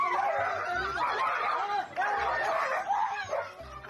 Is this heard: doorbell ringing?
no